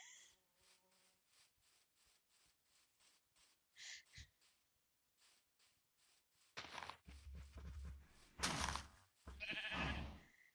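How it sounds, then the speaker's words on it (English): Minecraft sheep bleat inside an enclosure in the game, a series of short, faint repeated calls followed by louder scuffling and rubbing bursts toward the end, with no talk. "So we have our sheep"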